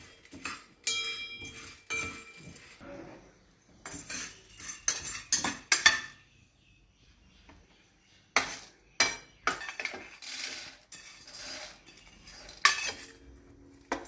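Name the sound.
dry roasting whole spices in a pan for sambar masala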